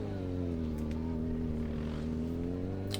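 A Suzuki GSX-R 750 motorcycle engine drones steadily during tight motogymkhana riding, a continuous close engine hum with a low, even pitch and faint wind noise.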